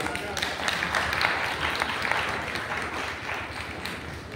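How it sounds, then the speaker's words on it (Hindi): Applause from a conference audience at a Bahujan Samaj Parishad gathering in Agra: a dense, steady wash of many hands clapping for several seconds, with voices mixed in throughout. "एक बार जोरदार ताली हो जाने के लिए"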